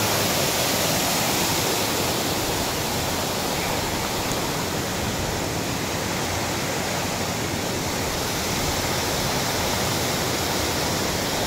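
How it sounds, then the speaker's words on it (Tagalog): Dahoyhoy waterfall in Mauban, Quezon pours in a steady, loud broadband roar of falling water, continuous and close, with no voices over it. "Ayan, ang tinatawag na Dahoy Falls."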